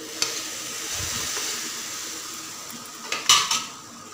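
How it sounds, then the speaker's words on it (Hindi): Roasted semolina and gram flour stirred together in a pan over a low flame, a soft steady scraping with a few louder clinks of the spoon against the metal near the end. "मिक्स कर लेंगे लो फ्लेम पर ही दोनों चीज़ों को अच्छे से।"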